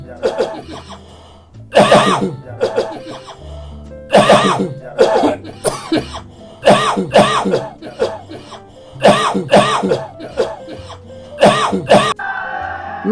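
A man coughs repeatedly in loud, clustered bursts, with throat-clearing between them and a brief noisy sound at the end.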